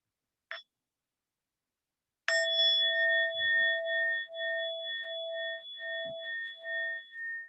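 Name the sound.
meditation bell ringing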